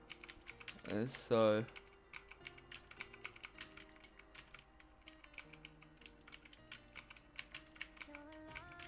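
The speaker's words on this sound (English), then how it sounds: "It's my first mechanical keyboard as well." Brisk clacking keystrokes on a new mechanical computer keyboard, close and steady with irregular rhythm, preceded by a brief spoken phrase.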